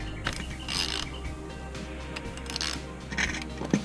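A spring compressor clamp on a Genesis Coupe 2.0T is tightened by hand, giving a quiet run of ratcheting clicks and metallic mechanism noises over a low background hum. There is no talking.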